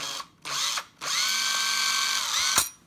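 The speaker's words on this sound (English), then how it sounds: "grab your drill, put it into the chuck" A power drill bores a hole in a printed circuit board, with a short whirring burst, a pause, then a longer steady high-pitched whine that ends in a sharp click, loud and close.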